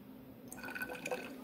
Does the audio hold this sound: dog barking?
no